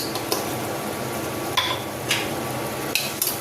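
Homemade biryani masala sautéing in a pan while a pea biryani is being cooked, with a steady low sizzle broken by a few sharp clinks and scrapes of a spoon against the metal.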